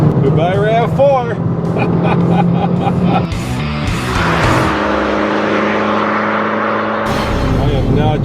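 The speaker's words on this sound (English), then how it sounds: "I'm gonna hit the sport button. I'm gonna downshift to third." A 2012 Fiat 500 Abarth on a Colorado road trip, its engine revving hard after a downshift to third gear, loud and close, with rising and shifting engine tones and a voice talking over it.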